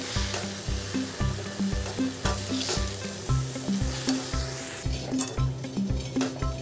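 Puffed rice poha with coriander sizzles and fries in a pan while a spoon stirs it in a steady rhythm, the scraping strokes repeating about twice a second over a continuous hiss, close and fairly loud.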